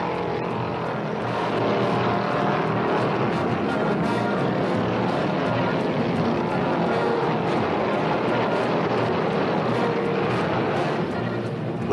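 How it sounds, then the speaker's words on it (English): A 1971 Hemi-powered Dodge Charger stock car races down the front straight at Riverside during the Motor Trend 500. Its engine makes a loud, steady, dense roar that holds for the whole stretch. "Elder's Dodge, number 96, looks and sounds stronger on every lap as he screams down the front chute for the white flag"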